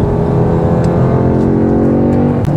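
An Audi S3 facelift engine pulls hard under acceleration, a loud, continuous close-up drone with a slowly rising pitch, plus a faint brief shift-like tick near the end.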